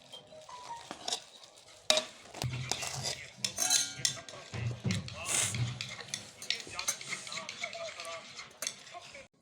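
Spoon scraping and clinking in a pot as chana biryani rice with potatoes is served onto a dish. Repeated metallic knocks and soft rustles sound close, with a faint sizzle underneath and someone talking.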